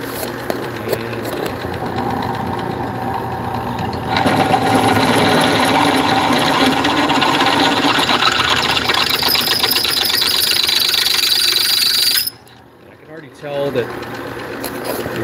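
A drill bores through a steel wheel hub for ARP 100-7703 wheel studs, cutting with oil in a steady, loud whine and grinding drone that runs for about twelve seconds before stopping abruptly, then a brief faint restart.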